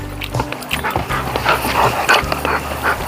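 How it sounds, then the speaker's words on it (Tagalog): A dog whimpers and whines in short, high-pitched bursts, close by, with faint yips among the cries. "dalawa nating aso ito"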